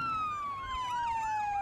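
A wailing emergency vehicle siren sweeps in a steady tone that slowly falls in pitch, loud and continuous throughout with road noise beneath and no talking.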